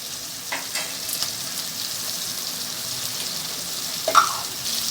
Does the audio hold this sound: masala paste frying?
yes